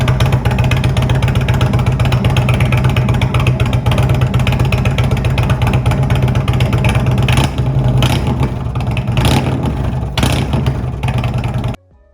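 An Indian muscle cruiser motorcycle engine revs loudly up close, a dense continuous roar with a few throttle surges in the second half before it cuts off abruptly.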